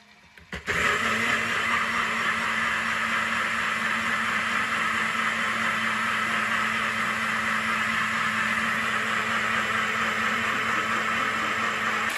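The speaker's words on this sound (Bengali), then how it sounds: "সেই জন্য আমি মিক্সিতে দইটাকে ফেটিয়ে এখন তাই করছি" A mixer grinder whisking yogurt whirs loudly and steadily for about twelve seconds after a brief start-up, its motor drone constant and close.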